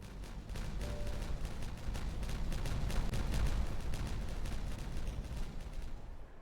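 In the video game Timberborn, a dense barrage of rumbling explosions rolls on for several seconds, a steady low booming crackle that fades out at the end.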